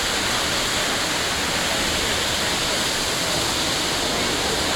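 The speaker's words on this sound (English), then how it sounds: "I'll throw in probably a couple clips of some of the waterfalls we saw." A waterfall seen while sightseeing on a bike trip between Seattle and Portland, a loud, constant roar of rushing water with no breaks and no voices.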